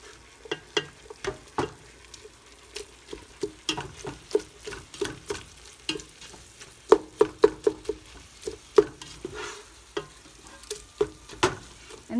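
A spoon stirs a pot of turkey chili, giving repeated scraping clacks against the pot in an irregular rhythm over a soft simmering sizzle.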